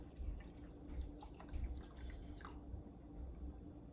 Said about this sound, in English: I want to keep that flavorful broth. I'm just gonna pour it in here